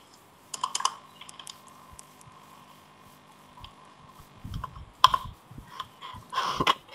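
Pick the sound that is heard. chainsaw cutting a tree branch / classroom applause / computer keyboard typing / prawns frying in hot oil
computer keyboard typing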